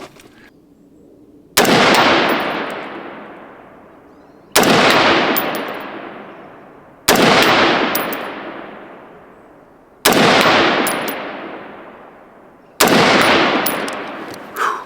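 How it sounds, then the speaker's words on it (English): A CMMG rifle fires five single rounds at an outdoor range, each a loud, sharp crack with a long fading tail, spaced about three seconds apart, close and with no talking. "We're going to fire 5 more rounds, exact same scope setting and exact same ammunition."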